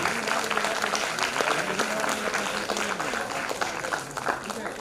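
An audience claps continuously in a hall, a steady patter of many hands, while a voice speaks over the applause with some tonal background sound underneath.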